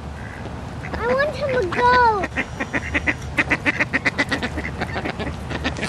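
A black-headed mocha freeze hybrid duck, half mallard, gives a few loud nasal honking quacks close by, followed by a rapid run of shorter calls, with a person speaking over the calls.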